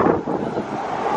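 Steady gusting wind buffets the microphone in a continuous rough rumble on a rainy, warm day in Rarotonga, Cook Islands, with no other sounds standing out.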